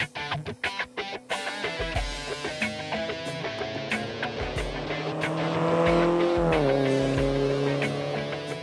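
A 1950s Triumph TR3 sports car accelerates on a road, its engine revving up through gears with a rising whine and steady roar, heard close from on board.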